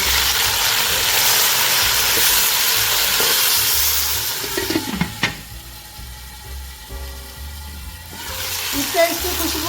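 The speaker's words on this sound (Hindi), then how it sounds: "अब हमने इसमें ये साग को डालना और ये कवर कर देना।" Mustard greens for sarson ka saag drop into a hot ghee tempering and set off a loud, close sizzle that crackles for a few seconds, then the lid goes on with a clatter and the frying fades to a softer hiss.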